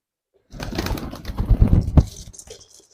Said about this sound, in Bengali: কবুতর আমার কবুতরগুলো আমার হাতে খাচ্ছে